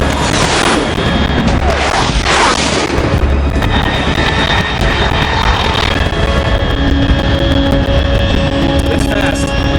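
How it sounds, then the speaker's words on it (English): A fast aircraft flies overhead at high altitude in Metal Gear Solid 3, a loud, sustained roar that swells and thins, mixed with explosive, booming game effects. "Control, unidentified aircraft detected."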